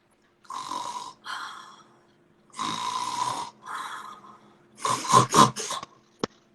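A person imitates snoring with choking and apnea: drawn-out rasping snore breaths separated by pauses, rising to a burst of choking gasps and ending in a sharp catch, close and alone.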